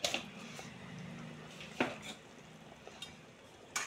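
Murrel fish curry with coriander powder being stirred in a pot, soft scraping and occasional light clinks of a spoon against the metal, quiet and close over a faint sizzle.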